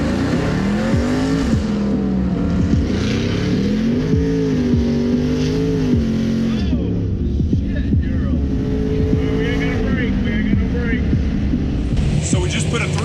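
A car with a swapped 6.2 liter engine, big camshaft and nitrous, roaring loud and close with rising and falling engine tones, while a person talks over it.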